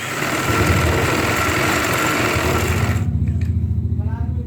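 Sewing machine stitching a ladies' pant with a side zip runs steadily and close up with a fast, even motor whir, then stops abruptly about two-thirds through, leaving faint handling noise.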